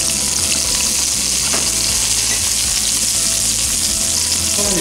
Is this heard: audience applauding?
no